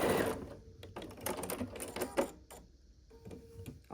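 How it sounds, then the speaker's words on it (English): A sewing machine sews across a seam on a Churn Dash quilt block, a short, quiet burst of rapid mechanical stitching that slows and stops after a couple of seconds. "we'll line this side up and sew across"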